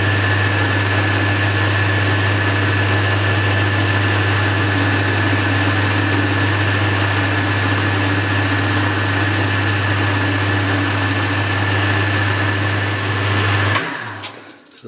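A metal lathe takes a facing cut across a headstock handle part with a tapered bore, running with a steady, close hum and a constant tone for about fourteen seconds before it stops abruptly near the end.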